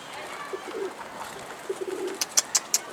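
A tumbler pigeon coos softly on a rooftop, a few low murmuring coos followed by several brighter, sharper calls near the end, close and alone without speech.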